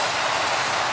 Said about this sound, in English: Merchant Navy pulling freight.